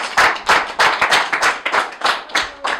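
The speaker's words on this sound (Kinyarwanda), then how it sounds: "Reka haguruka tumukomere amashyi mu izina rya Yesu." A church congregation claps together in a brisk, steady rhythm of loud, close hand claps, roughly three per second, with no voices over them.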